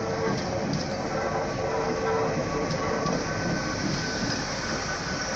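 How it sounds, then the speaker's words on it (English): A train rolls through Swindon station, a loud, steady rumbling roar of wheels on rails with faint clicks, continuous across several seconds and fairly close. "Another train to Paddington, just check this one."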